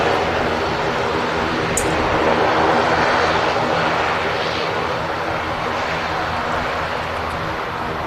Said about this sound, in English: Logan Air ATR 72